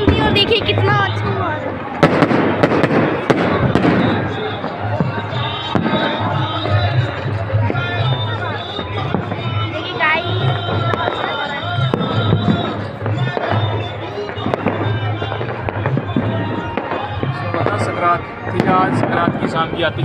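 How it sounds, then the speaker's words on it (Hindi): Makar Sankranti evening fireworks over Jaipur's walled city, a continuous barrage of sharp bangs and crackles, some close and loud, with crowd noise and voices mixed underneath. "ये संक्रांति की शाम की आतिशबाजी है जयपुर की, जयपुर परकोटे की"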